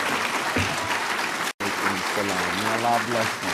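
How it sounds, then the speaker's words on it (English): A hall audience gives a speaker a warm welcoming round of applause, steady clapping that continues under a voice speaking over it. "Please welcome Brother Abdul Alim Muhammad with a warm round of applause"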